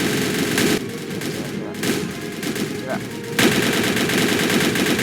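Rapid bursts of heavy anti-aircraft gunfire in the Roblox game General Quarters, sustained automatic firing broken by a short pause, loud and close.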